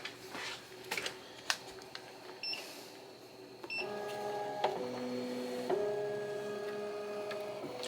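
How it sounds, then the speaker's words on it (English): A Ricoma 15-needle embroidery machine stitches a test design on a toddler t-shirt, first with scattered clicks and taps, then a steady mechanical whir with shifting tones and a few sharp clicks, close and moderately loud. "I'm going to go ahead and do a test to make sure that the design is going to stitch out exactly"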